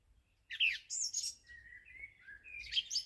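Small birds sing in a spring garden among cherry trees, giving clear, high chirps and thin whistled phrases, with a short burst at first and another toward the end against quiet surroundings.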